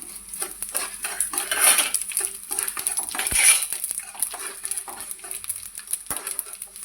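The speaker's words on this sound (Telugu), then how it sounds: "అదేవిధంగా స్పూన్ జీలకర్ర కూడా వేయించుకుందాం." Coriander seeds and cumin dry-roast in a pan for curry leaf powder, with a spoon repeatedly scraping and clinking against the metal in irregular close strokes and no voices.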